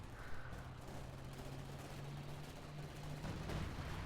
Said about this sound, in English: Oh, here comes the artillery.